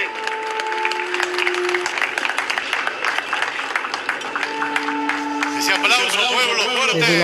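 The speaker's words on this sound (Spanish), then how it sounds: "Aplausos, pueblo, fuerte." Crowd applause at an outdoor cultural performance reenacting the meeting of the Sipán and Atahualpa cultures in Bambamarca, loud continuous clapping with cheers and a sustained voice or whistle tone cutting through.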